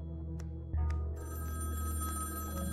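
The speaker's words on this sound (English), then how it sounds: "Now I'll answer the phone." A telephone rings in the video game Sally Face, its bell tone starting after a couple of soft clicks and continuing steadily and fairly loud with no talk.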